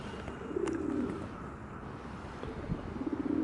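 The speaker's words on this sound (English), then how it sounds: "So we only got 2 pigeons here now." Pet pigeons at a home loft coo softly in low, rolling phrases against a steady background hiss, with a faint chirp here and there and no voices.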